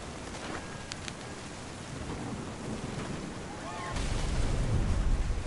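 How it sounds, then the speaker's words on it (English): Rumbling thunder builds into a louder, heavier roll near the end, mixed with steady rain on a surface, with no voices. "The thunder sounded much too close and full of angry power."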